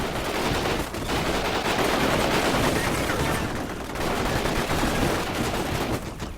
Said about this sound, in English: Look at that heavy machine gun fire